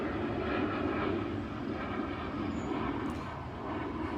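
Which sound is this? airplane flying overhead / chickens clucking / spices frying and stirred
airplane flying overhead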